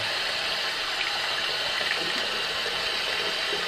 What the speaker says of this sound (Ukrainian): Круглодобово з крану тече апельсиновий сік.